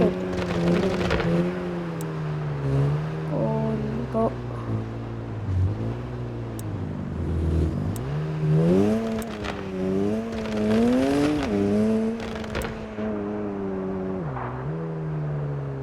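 A new car's engine revs and climbs through gears while driving, its harmonic drone rising and falling in sweeps, loud and close throughout with no talk.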